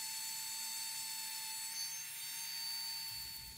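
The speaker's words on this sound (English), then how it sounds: "I'll go ahead and sand this off with the Dremel, smooth it out some 200 and then 400 grit." A Dremel rotary tool sanding a handmade sailfish fishing lure with 200 and 400 grit, heard as a steady high-pitched motor whine with a faint rubbing hiss, close and continuous throughout.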